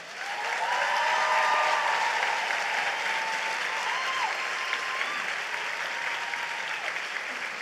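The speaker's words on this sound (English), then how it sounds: "So can you please give yourself a round of applause for being here?" An audience at a medical graduates' pledge ceremony gives a sustained round of applause, dense and even from start to finish, with a few voices faintly underneath.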